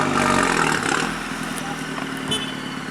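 A Mini JCW idles with its exhaust valve open, giving a steady, close, low rumble with a slight swell near the start and little change afterward.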